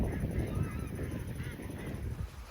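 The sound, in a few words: large flock of birds gathered at wetland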